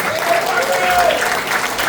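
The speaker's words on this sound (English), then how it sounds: "Ladies and gentlemen, Marcus Schoen. Give him a nice round of applause." Warm, continuous applause from a big band concert audience for musician Marcus Schoen, even and full-bodied across two seconds.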